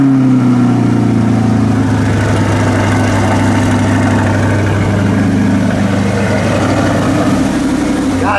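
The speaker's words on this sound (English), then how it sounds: "So let's do a cold start of the C8 and then get going." A Chevrolet C8 Corvette, a mid-engine car, idles after a cold start with a deep, steady, throbbing rumble that holds close and loud throughout.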